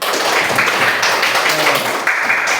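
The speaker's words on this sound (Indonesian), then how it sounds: "Tepuk tangan." A classroom group claps together, a dense steady patter of hands that is fairly loud and close, running throughout with a voice faintly under it.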